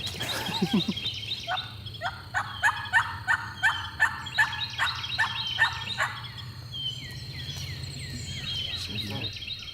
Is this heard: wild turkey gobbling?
yes